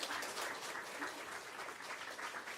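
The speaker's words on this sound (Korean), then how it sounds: "박수." A church congregation claps together at a Bible-reading awards ceremony, a steady, dense burst of applause that fills the room for a few seconds without any voices over it.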